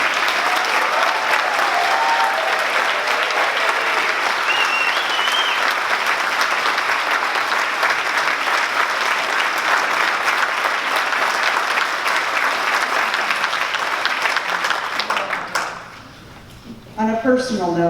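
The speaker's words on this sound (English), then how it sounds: "let's hear one more time for the people and organizations." Loud, sustained applause from a large audience at an awards-style ceremony roars steadily for many seconds, then fades quickly as a speaker's voice begins.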